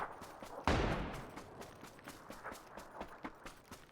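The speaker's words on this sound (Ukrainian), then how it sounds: "Можна машину постріляти, вона вибухне." Gunfire in a video game aimed at a car, starting as a sudden loud blast followed by a rapid series of fainter shots and impacts that keep crackling on with no talk.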